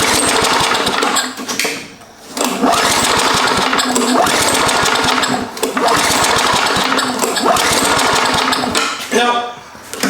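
A free push lawn mower engine with a carburetor problem being cranked and trying to start after priming at medium throttle: loud, rapid chugging bursts in several long pulls, separated by brief pauses, with talk between attempts.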